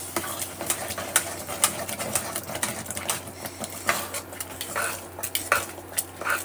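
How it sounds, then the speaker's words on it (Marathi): Carrot halwa being stirred in a pan, a spoon scraping and clinking against the metal in irregular close strokes over a low steady background hum. "तर आता याला फक्त एक वेळेस मिक्स करून घेऊ आणि बंद करू."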